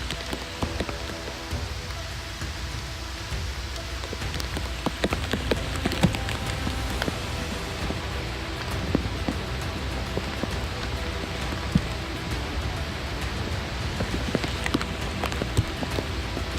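Steady rain falls on surfaces during a wet whitetail deer hunt in New York, a constant near hiss with scattered sharper drops and occasional faint knocks, no voices.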